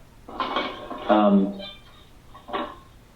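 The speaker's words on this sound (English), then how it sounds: "Whoever's washing their dishes, I can only hear about a third of what." Dishes being washed nearby during a town board meeting: short bursts of clinking dishes and cutlery mixed in with people talking, fairly close.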